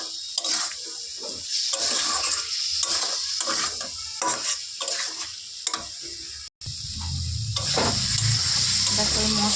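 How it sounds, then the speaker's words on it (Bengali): Cumin, coriander and Kashmiri chili powders fry in a pan for a parshe fish curry, a loud close sizzle broken by repeated scraping stirs and one brief dropout. "দেখো এই মশলাটা দিয়ে একটু হালকা কষিয়ে নিয়েছি"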